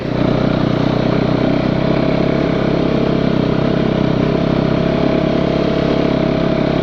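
A snowbike engine runs steadily at a constant drone, close and loud, with no change in pitch and no other sounds; the bike has a new track and a new fuel pump and is running in poor outdoor conditions.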